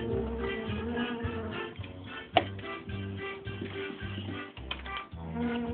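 Bees buzzing in a CBeebies children's maze video game, with a repeating rhythmic pulsing buzz over cheerful game music and a brief sharp effect partway through.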